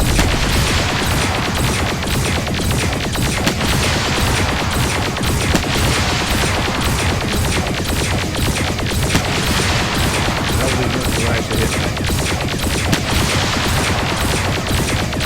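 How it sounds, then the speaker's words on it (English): Missile fire in Freespace 2 forms a dense, unbroken barrage of rapid launches and blasts that stays loud and steady for the whole stretch, with no talk over it. "That's what I call them missiles."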